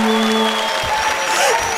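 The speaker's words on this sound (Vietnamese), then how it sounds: "Thấy chưa, vỗ tay hết luôn" An audience at a Vietnamese comedy show claps at a steady volume, a broad wash of applause from a crowd with voices mixed in.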